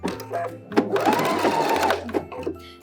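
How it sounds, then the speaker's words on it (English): A sewing machine runs a straight stitch through several stacked layers of lining and skirt fabric on a babydoll dress, its steady close whirring rising and pausing briefly in short bursts. "we're just gonna sew over it and we're gonna sew through all the layers"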